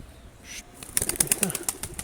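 A Mardin Dumanlı Perçem pigeon lands among other pigeons, with a quick flurry of wing flaps, close and fairly loud, after a brief quiet moment.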